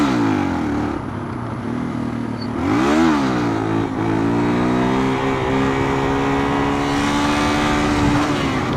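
A 2006 Yamaha XT225 motorcycle, a very light trail bike geared down one tooth in front, revs hard and accelerates through the gears, steady loud close engine drone with rising pitch sweeps and one quick shift.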